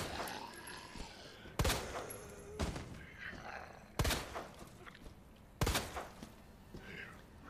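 Four sharp, loud laser-sighted pistol gunshots in Resident Evil 2 Remake ring out at irregular intervals over a steady low background hum, each with a short echoing tail.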